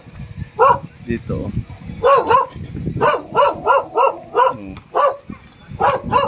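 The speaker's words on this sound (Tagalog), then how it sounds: "May aso pala rito." A dog near a low-cost guest house in Davao City barks in repeated loud bursts, some close together and some spaced apart, while a person talks over and between the barks.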